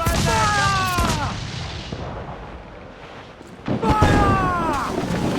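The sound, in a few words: ship cannon fire in Assassin's Creed 4 video game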